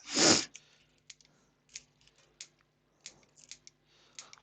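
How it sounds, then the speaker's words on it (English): Scissors snip through the backing of fur fabric in a row of short, close, quiet cuts. A louder rustle comes first, then irregular crisp clicks spread out over a few seconds. "you want to try and run your scissors between the fur and the backing, so you don't cut the strands"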